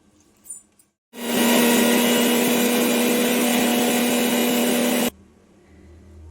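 A mixer grinder grinds a spice paste of coriander powder and water for masala avarekalu bath, switching on abruptly into a loud, steady whirring roar that holds for about four seconds and then cuts off.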